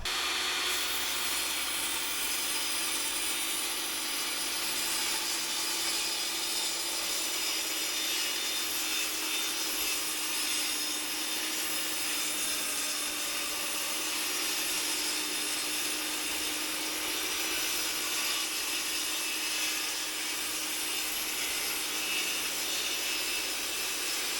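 Steady, continuous whine of a 254 mm blade power saw cutting through wood, loud and close, a broad high-pitched buzzing that holds without pause throughout.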